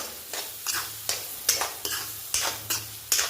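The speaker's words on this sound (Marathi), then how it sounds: "तर आता हे परतून घ्यायचं एक ते दोन मिनटं व्यवस्थितच" Banana pieces are stirred and sautéed into semolina sheera in a pan, making a soft sizzle broken by rhythmic stirring scrapes about every half second, fairly quiet and with no talk.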